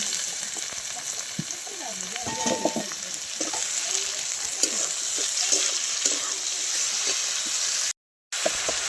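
Tomatoes and onion frying in a pan, a loud, steady, close sizzle with faint scrapes and bubbling through it, broken by a brief dropout near the end; no one speaks.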